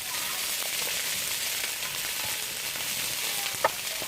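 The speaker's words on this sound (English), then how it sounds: "So I just stir that around for like 30 seconds." Chicken sizzles in a pan during a stir-fry, a soft, even frying hiss throughout with faint scraping from stirring and one brief louder tap near the end.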